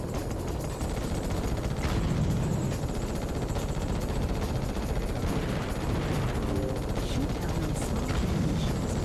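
Missiles firing in the Ratchet & Clank video game, a dense continuous barrage of launches and explosions rumbling steadily amid busy game noise.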